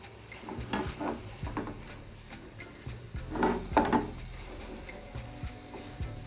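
A coconut laddu mixture with milk powder is stirred continuously in a pan, giving soft, irregular scraping and rubbing strokes at a moderate distance, quiet with occasional louder scrapes.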